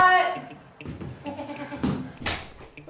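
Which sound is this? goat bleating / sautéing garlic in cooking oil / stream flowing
goat bleating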